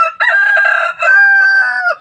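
A large male chicken, a crossbreed of big native fowl, crows loudly and close by in one long drawn-out call with a brief break partway, with no other sounds around it.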